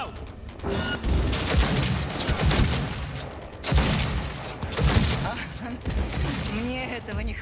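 Gunfire in the video game Cyberpunk 2077: sustained heavy automatic fire in dense, overlapping bursts with impacts and shattering debris, and game voices speaking partway through.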